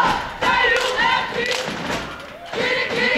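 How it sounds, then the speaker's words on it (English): Cheerleaders at a high school basketball game between Conrad and Mount Pleasant start a rhythmic cheer, voices and thumping stomps rising in bursts over a rowdy crowd in a gym. "You can hear our cheerleaders in the background starting their jump-off cheer."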